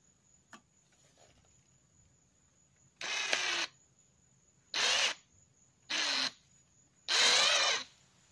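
An 11/32 drill bit bores through a valve guide in an MGB cylinder head, in four close, loud drill bursts of one to two seconds each, separated by quiet pauses, over a faint steady whine.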